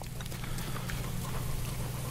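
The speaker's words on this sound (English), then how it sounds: "There's that rain again." Steady rain falls in The Legend of Zelda: Breath of the Wild, a dense, even hiss of drops that holds constant for the whole short stretch with no talking.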